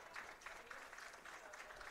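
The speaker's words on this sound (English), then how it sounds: "As Schultz will get up, and to the applause of the crowd, the goal will stand for Hope" Crowd applause at a men's college soccer match between CUC and Hope after a goal is allowed to stand, a steady, distant patter of clapping that runs evenly for the full two seconds.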